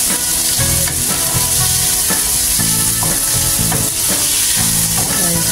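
Tomatoes and eggs sizzle loudly in a hot pan, with a constant close frying hiss and a spatula scraping and stirring in a steady rhythm, and no voices.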